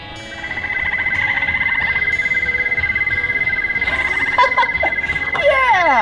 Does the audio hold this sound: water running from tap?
no